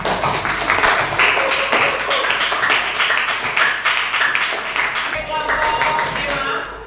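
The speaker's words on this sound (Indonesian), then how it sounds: "kita beri tepuk tangan." Classroom applause for a student group after their presentation in a school lesson, a steady wash of clapping from a room of pupils lasting throughout, with some talk and voices mixed in.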